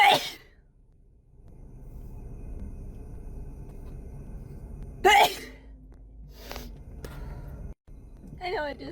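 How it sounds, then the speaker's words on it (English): A woman sneezes sharply several times, with bursts at the start, around the middle and near the end, separated by quieter breathy stretches and low background rumble. "I know I just sneezed"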